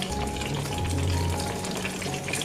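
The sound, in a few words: blended chili paste frying in a little hot oil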